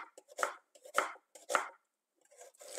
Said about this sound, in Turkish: Şimdi bir adet soğanımızı piyazlık olarak doğruyoruz.